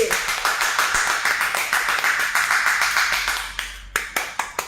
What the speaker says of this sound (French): Bravo, applaudissez pour Lolo Beauté.